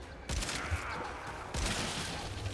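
Weapon fire in the video game Warframe while shooting enemies: a short burst of gunfire, then a second burst of sharp, loud blasts with a rattling tail.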